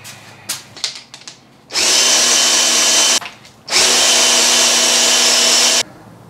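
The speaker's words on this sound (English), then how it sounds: "Probably should have used a corded drill." A cordless drill spins over a small-block engine with the plugs out and no compression, two loud sustained whirring runs of about a second and a half and two seconds, preceded by brief clicks and handling noises.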